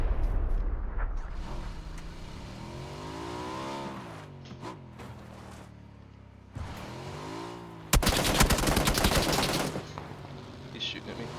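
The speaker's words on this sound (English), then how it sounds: "He's shooting at me." Gunfire in a shooter video game: scattered single shots, then a dense burst of rapid automatic fire near the end, mixed with vehicle engine noise and a voice talking.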